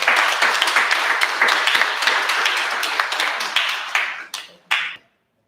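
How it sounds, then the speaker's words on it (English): An audience at a press conference for an African American Day Parade breaks into sustained applause, a dense wash of clapping that fades into a few last claps and then silence. "Give her a big round of applause."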